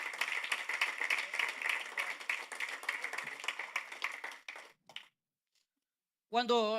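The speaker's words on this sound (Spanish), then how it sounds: "And so go ahead and give an offering of palms to the Lord." A church congregation claps steadily for about four and a half seconds at moderate volume, then the clapping fades out and a brief silence follows before a voice begins speaking.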